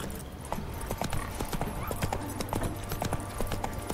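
The horse Roach walks in The Witcher 3, its hooves making a steady, close clip-clop rhythm over a continuous ambient game background.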